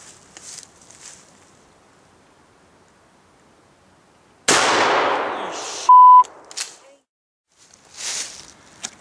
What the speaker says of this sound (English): I've got a slug round, and hopefully if I hit the target it'll light up green